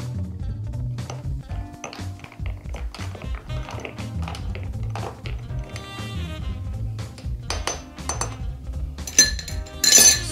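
A spoon stirs a Horse's Neck cocktail of ginger ale with a lemon spiral in a glass. Irregular light clinks and taps of metal against glass come close up, with a couple of sharper rattles at the end.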